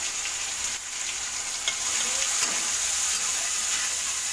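Tomato and chopped coriander get mixed in a sizzling frying pan while a tondli and potato bhaji is made. A constant frying hiss sits under a few spoon clinks and stirring scrapes, with no voices.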